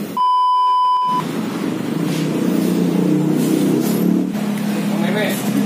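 A Honda PCX160 scooter fitted with a toggle switch fires up after a short electronic beep, then idles and revs unevenly in a steady, close, loud engine note.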